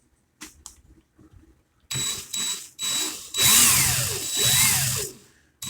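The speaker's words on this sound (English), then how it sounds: "so that my drill grabs it" A power drill whirs in several bursts while building a pitchfork, rising and falling in pitch as it spins up and slows, with quiet handling noises before it starts.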